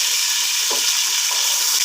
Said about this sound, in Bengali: রোস্টের মুরগি ভাজার পর এখানে যে তেলগুলো রয়ে গিয়েছিল সেই তেলের মধ্যে দিয়ে দিচ্ছি গোটা গরম মশলা